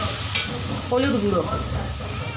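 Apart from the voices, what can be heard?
mutton kosha masala being stirred and fried in oil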